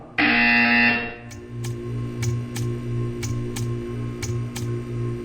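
Portal 2 on Xbox 360 sounds a loud, harsh electronic buzzer for about a second, followed by a steady hum with evenly spaced ticking pulses.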